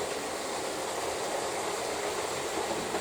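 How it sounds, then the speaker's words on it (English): A model train runs on a layout, giving off a steady, close mechanical whir without any pause or change. "Just going to stop the train"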